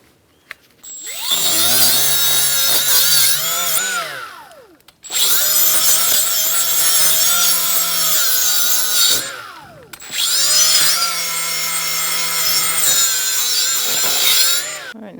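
A loud power tool grinds rust off a Chrysler 300 brake rotor in three long bursts with short pauses between, a high whining rasp close by.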